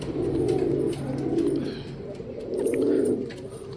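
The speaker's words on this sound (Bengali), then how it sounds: "ম্যাঙ্গোর ডাক পুরো বিউটিফুল" A pet pigeon coos close by in low, rolling throaty phrases that come in repeated swells, with faint chirps in the background.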